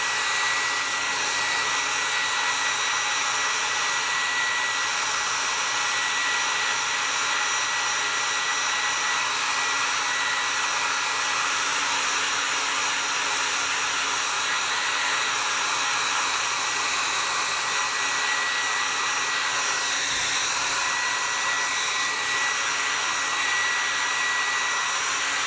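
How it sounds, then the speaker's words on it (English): A hair dryer blows steadily on a leather repair patch, a continuous close, loud whooshing hum with no pauses and no talking. "So I'm going to use the hair dryer."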